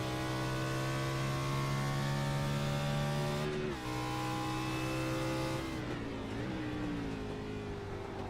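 IROC series race car at Watkins Glen roars at high revs close by, the steady engine tone dropping briefly on an upshift and then dipping and climbing again as it shifts back down.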